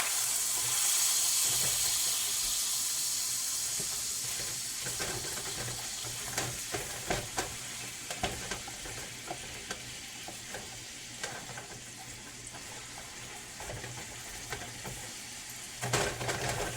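Ground beef browning in a pan for chili, a continuous dense sizzle and crackle up close, with repeated sharp scrapes and taps of a utensil breaking up and stirring the meat.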